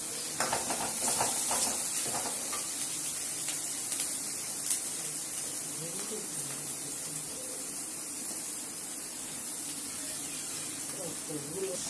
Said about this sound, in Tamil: வெங்காயம் நல்லா பொன்னிறமாக வந்து வதங்கணும்